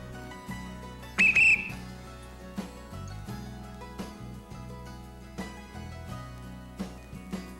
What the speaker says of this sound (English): Let's blow our whistle to alert the RCers.